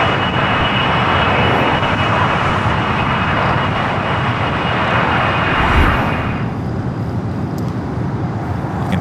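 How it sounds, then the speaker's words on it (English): Corporate jet taking off from runway 25 right at Los Angeles International Airport, a loud, sustained engine roar with a high whine that fades slightly as it climbs away. "Hear that corporate jet taking off now, taking off 25 at right."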